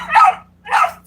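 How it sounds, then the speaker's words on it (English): A dog barks twice in sharp, separate yaps close by, with a brief pause between them, near a camper in an outdoor setting. "What is she barking at?"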